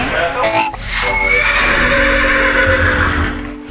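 A horse neighs loudly and close by, a long wavering whinny that rises and then trails off, with faint ambient noise underneath.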